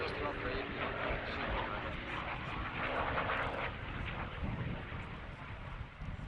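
A Lockheed propeller aircraft from 1973, registered in England, passes at full speed at the 1992 Gardermoen airshow, its engine roar swelling to a peak midway and fading, with a voice talking over it.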